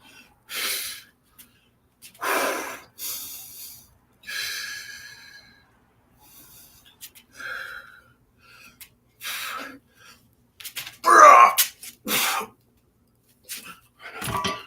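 Heavy exertion breathing during a workout: a series of sharp forceful exhales and gasping breaths in irregular bursts, close and fairly loud, separated by short silences.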